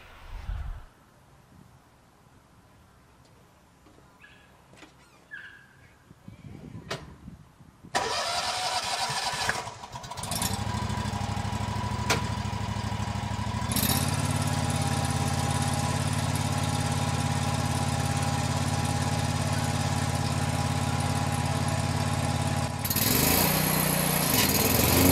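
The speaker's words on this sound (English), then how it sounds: "Today I'm going to use the Toro Z-Master Series 5000." A Toro Z-Master Series 5000 zero-turn mower with a 60-inch cut cranks over after some quiet handling noises, catches, and settles into a loud, steady engine drone that runs to the end, with a brief rise in pitch near the close.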